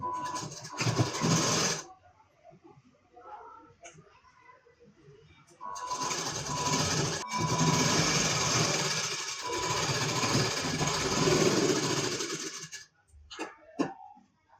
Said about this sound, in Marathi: तर इथे पण उलट्या बाजूने करून शिलाई करून घ्यायचं आहे.